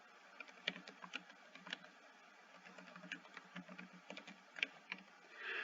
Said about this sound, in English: maybe I'll just type goals.